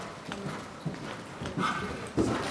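A horse's hooves clip-clop on the ground during show jumping training, a steady run of fairly close footfalls with faint background sounds.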